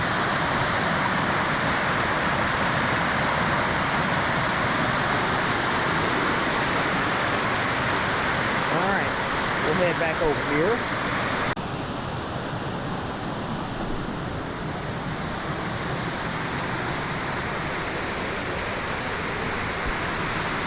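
Spruce Flats Falls runs heavy after recent rain, a steady, loud, unbroken roar of falling and flowing water close by; someone speaks briefly partway through.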